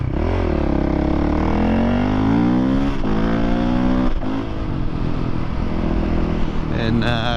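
A motorcycle with a fresh dyno tune revs and accelerates hard on a road ride in Michigan, its engine pitch sweeping upward through gears, loud and close with wind rush throughout.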